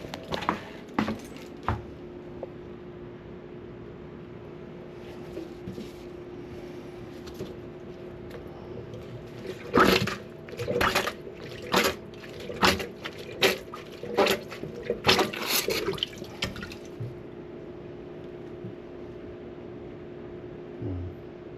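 Water draining from a kitchen sink after a clog, a steady low gurgling wash with a run of sharp clinks and splashes midway, close up over a constant background hum.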